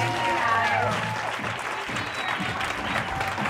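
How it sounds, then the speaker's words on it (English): An audience claps for a speaker named Alyssa at a business talk, a moderately distant, steady round of applause holding for several seconds. "let's give Alyssa a huge round of applause"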